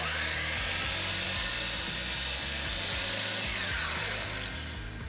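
A power tool saws through wooden moulding trim for a mirror frame, producing a loud, sustained buzzing cut with a rough, grinding texture up close that eases slightly toward the end, with no talk.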